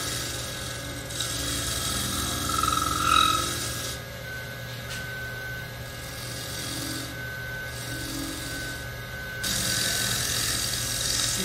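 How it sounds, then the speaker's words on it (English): Hollow form or urn of wood spinning on a lathe while a tool takes a shear scrape, a steady close rasping scrape that eases off and returns in long passes. "nice steep angle on this shear scrape gives me a nice clean cut"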